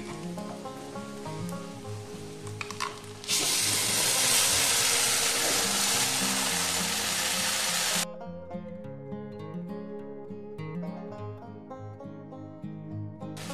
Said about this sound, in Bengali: এবার আমি দিয়ে দেবো এই যে পেঁয়াজ, রসুন, কাঁচা লঙ্কা আর যেটা কপির ডাঁটা, এই পেস্টটা দিয়ে দেবো।